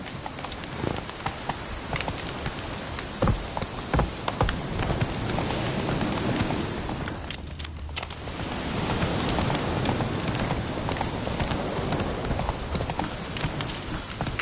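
A horse gallops in The Witcher 3, its hoofbeats a steady, close clip-clop running throughout over a dense game soundscape with a rain-like wash.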